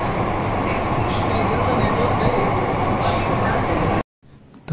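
Mumbai underground Metro Line 3 train rumbling loudly and steadily at close range for about four seconds, then cutting out abruptly into near silence before a faint noise returns.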